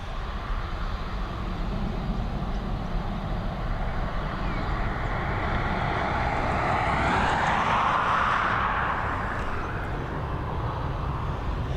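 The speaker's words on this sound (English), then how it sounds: "This Boeing 777 operated by Emirates coming in from Dubai." An Emirates Boeing 777 arriving from Dubai at Dublin Airport, heard as a continuous broadband jet roar that swells and rises in pitch toward the middle before easing slightly, with no voices over it.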